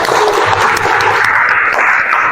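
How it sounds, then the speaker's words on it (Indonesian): Audience applause in a classroom or lecture session, a dense steady wash of clapping hands sustained for a couple of seconds at even loudness, with no voices standing out. "Oke, tepuk tangan dulu dong."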